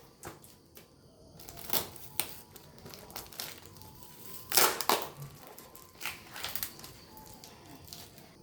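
A photo frame's packaging being torn and broken open: sharp crackling snaps and crinkles come in irregular bursts, close by, with quiet pauses between.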